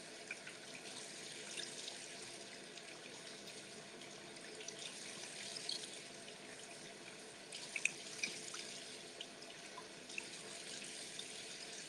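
Water runs steadily from a faucet into a sink as a face is rinsed during a nighttime skincare routine, a faint continuous hiss with small splashes and drips, no talking.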